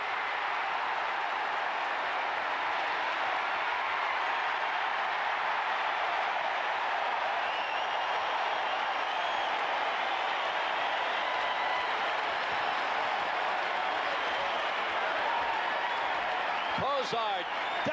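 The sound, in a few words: football stadium crowd cheering after a fumble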